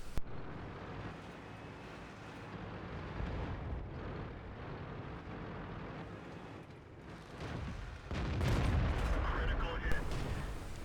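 Tank guns firing shells in World of Tanks on the Cliff map, heavy booming blasts over a constant engine rumble, with a louder stretch of rumbling and impacts near the end.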